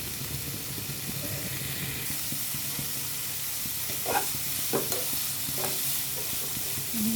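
Pan of frying onion, turmeric, salt and green chilli for an Assamese fish curry, a constant hissing sizzle up close with a few scraping spatula strokes near the end.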